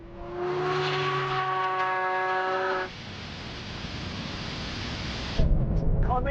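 Supercars including a Lamborghini SVJ, a McLaren and a Porsche accelerate from a rolling start at 50 mph, engines rising in a strained tonal whine before giving way to broad roaring rush and wind noise.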